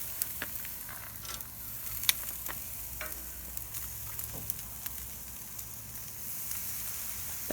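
New York strip steaks sizzle steadily in a pan, with a constant hissing fry broken by small pops and crackles and occasional clinks.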